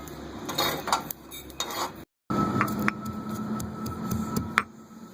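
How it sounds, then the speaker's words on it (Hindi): Roasted cumin seeds pounded by hand for a sweet dahi phulki, giving a run of close, sharp knocks and scraping clicks, with a brief silent gap midway and no talking. "जीरे को अच्छी तरह भून के हम कूटेंगे।"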